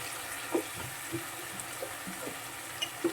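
Chicken pieces fry in a pan for a chicken dum biryani fry, giving a faint, steady sizzle with a few soft pops and crackles scattered throughout. No one speaks.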